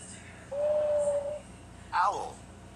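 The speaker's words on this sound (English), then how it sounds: "Owl." A toy owl hoot from a toddler's animal sound picture book: one steady, sustained tonal call lasting about a second, followed by a brief voice.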